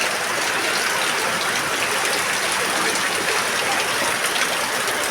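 Steady heavy rain with rushing floodwater, a constant broadband hiss and gush that stays loud and unbroken throughout.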